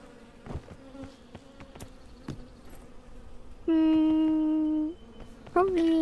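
A steady bee buzz in a video game hums loudly for over a second, then a second buzz starts near the end, over a quiet rain-pattering background.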